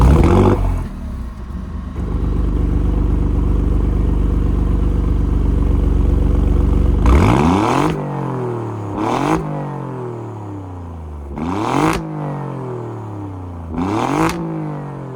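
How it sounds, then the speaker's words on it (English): A 2024 Alfa Romeo Giulia Quadrifoglio facelift sits in race mode at a steady, rumbling idle for several seconds, then barks through four sharp throttle blips, each rising fast and falling away, loud and close with no talking. "I have to put it in race mode, gives you guys a couple of blips."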